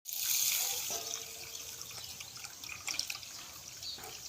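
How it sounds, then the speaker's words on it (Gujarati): Rice being washed in water, with steady splashing and running water, close and moderately loud, with occasional clinks and drips throughout. "ચોખા ધોવાનું કામકાજ ચાલુ થઈ ગયું છે"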